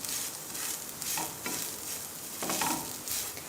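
Sautéed chicken being stirred with the remaining ingredients in a pan, mayonnaise among them, giving repeated scraping strokes over a soft sizzle at a moderate level, with no voices.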